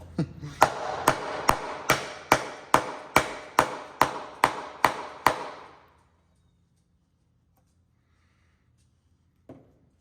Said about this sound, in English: work to your line slowly, and this is how you chop a mortise.